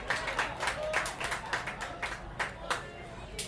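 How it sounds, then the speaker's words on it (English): An outdoor audience at a village fest claps in a modest, uneven round of applause, fairly faint with a murmur of crowd voices underneath. "Give a round of applause."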